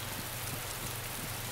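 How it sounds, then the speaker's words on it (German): Heavy rain in DayZ, a steady dense hiss of downpour at low volume, continuous and even with no other sounds. "Boah, das schüttet aber wie Sau, ne?"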